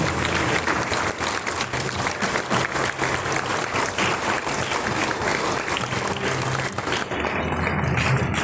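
Steady, dense applause from a large crowd at a Meghalaya National Sports Day ceremony honoring gold medal winner John Borlang Pingro, sustained and even throughout with no break.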